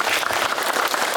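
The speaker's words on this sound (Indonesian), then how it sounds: "Tepuk tangan dulu." An audience at a morning sharing session breaks into a short burst of dense, even clapping that fills the whole moment at a fairly loud level.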